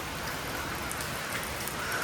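Steady rain pours down outdoors during a one-sided shower under a dark sky, a dense, even hiss that holds at the same level throughout with no voices.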